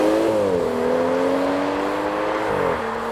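A 2016 BMW 340i xDrive sedan accelerating hard, its engine note climbing steadily and loud and close, with a brief dip in pitch like a gear change near the end.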